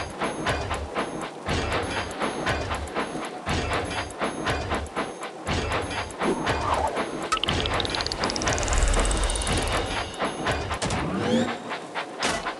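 Toy-like trains run and rattle along tracks in the Thomas & Friends Minis video game, a busy continuous stream of rhythmic clacks and engine noise with a rising whistle-like tone partway through, with no talk.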